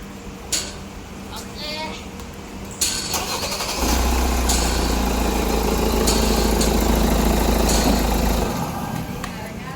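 Hyundai Santa Fe fitted with a Nanexx sodium-ion battery cranks briefly and catches, then settles into a steady, close idle drone that runs for several seconds before easing off; a voice talks over the start.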